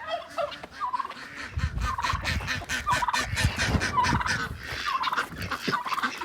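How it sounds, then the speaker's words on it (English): Poultry in a backyard coop in freezing winter weather, with repeated gobbling and clucking calls rising over a busy, rustling background of birds moving close by. "Let's check out the chickens."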